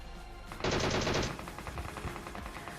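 A sharp burst of automatic gunfire roughly half a second long rattles out during a mobile battle royale match played on an iPad Mini 5, followed by fainter scattered shots.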